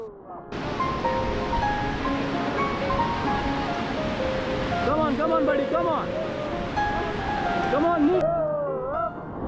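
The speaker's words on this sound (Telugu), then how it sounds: "పెద్ద పెద్ద అలలు వస్తూ ఉంటాయి" Big white-water waves on the Ganga at Rishikesh roar in a continuous broad rush during a rafting trip, loud and steady throughout, with faint shouts and voices on top.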